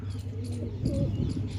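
Pigeons perched on a rooftop coo in low, soft, throaty murmurs over steady faint background hum, a continuous gentle bubbling coo throughout the short stretch.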